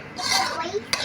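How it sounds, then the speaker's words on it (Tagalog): Pork being sautéed for menudo in a pan, with a spoon or spatula scraping and clinking against the metal, a faint sizzle underneath, and a sharper clack near the end. "Ginigisa pa naman natin yung ating pork, di ba?"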